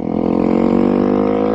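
Honda CRF300L motorcycle with an aftermarket exhaust pipe, a loud, close, steady engine drone with a pulsing exhaust note that stays even throughout, with no talk.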